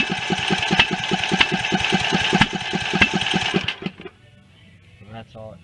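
A lawn tractor engine with its hood on runs at full throttle without choke, a loud rough chugging with a steady pulsing beat that falters and dies out near the end, leaving near silence.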